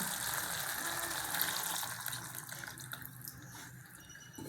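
Tamarind water pours from a vessel into a simmering South Indian kuzhambu curry, a steady close splashing and gushing liquid stream that slowly thins out toward the end.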